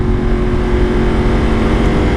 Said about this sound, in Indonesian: Jadi suara yang dikeluarkan dari motor ini dan mesin ini luar biasa enak banget.